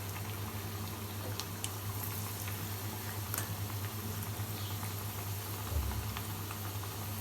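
Pakoras sizzling in hot oil in a kadhai, a soft, steady bubbling crackle with faint patter throughout, quiet and unbroken by speech.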